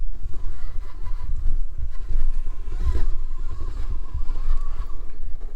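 Furitek FX118 Katana brushless RC crawler creeping over rough canyon ground on portal axles, a continuous low rumble and rustle with small knocks, close and moderately loud, no talking.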